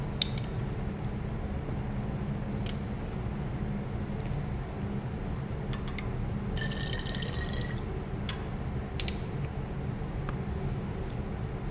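Water trickles and drips while an Erlenmeyer flask is rinsed during a cyclohexanol dehydration lab, a quiet steady flow under faint background hum with a few brief clinks.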